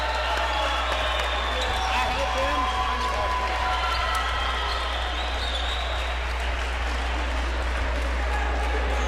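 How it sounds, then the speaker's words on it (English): A college men's basketball arena crowd roars and cheers loudly and continuously near the end of a game, with a steady dense wash of voices and scattered ball bounces beneath. "Listen to this crowd."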